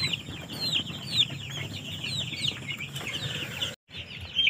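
Chickens in a poultry flock are being given an eye-drop Gumboro (IBD) vaccine. Busy clucking and chirping carries on throughout at moderate distance, with occasional wing flaps and a brief gap near the end.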